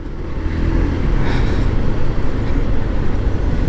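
Dense road traffic in Makati heard from a moving motorcycle, a loud, steady roar of engines and tire noise close around, with no voices.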